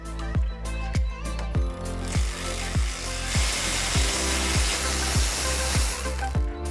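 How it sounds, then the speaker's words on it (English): A 10mm bolt being removed from the rear suspension of a Jeep JL: a close, steady run of evenly spaced ratcheting clunks, about one every half second, with no talking. "Gonna pull off this 10mm bolt here first."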